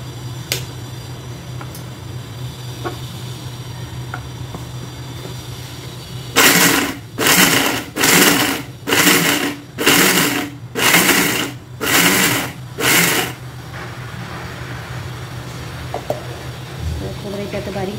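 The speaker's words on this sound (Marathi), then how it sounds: "ते ग्राइंड करून घेऊया." A kitchen mixer grinder runs in eight short pulsed bursts, grinding grated coconut with salt, a little sugar and yogurt, each loud whirring burst separated by brief pauses, following a quiet stretch with faint background hum.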